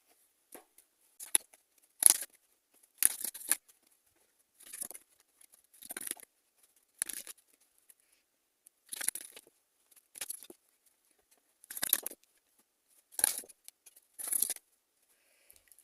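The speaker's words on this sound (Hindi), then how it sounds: "चलिए कुछ कार्ड्स लेते हैं" Tarot cards shuffled and handled by hand, giving a series of short, crisp papery riffles and taps in bursts about a second apart, close and quiet, with no talking.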